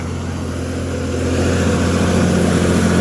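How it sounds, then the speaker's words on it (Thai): A large Caterpillar six-cylinder diesel engine on a Wirtgen W250 road milling machine runs close by with a loud, steady droning hum that swells slightly after the first second. "เครื่องยนต์แคตตาบิล่า"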